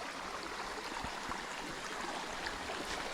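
A small mountain stream along the Blue Ridge Parkway rushes steadily, a constant, even hiss of flowing water with no breaks, heard close and fairly quiet.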